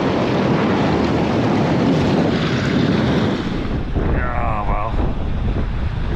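Strong wind buffets a lakeside bivvy during winter carp fishing, a loud continuous roar with rushing gusts and waves, hitting the microphone hard, steady for the whole stretch.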